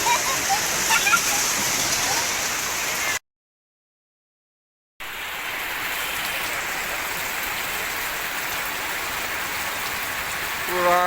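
Heavy rain pouring down outdoors, a dense, steady hiss of drops on surfaces that runs continuously, broken by a few seconds of total silence before resuming just as strong.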